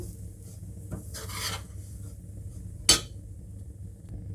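Coconut and semolina being stirred in ghee in a pan for rava laddu: a soft rasping scrape of a spoon against the pan, then one sharp metallic clink. Both sounds are quiet, over a low steady background hum.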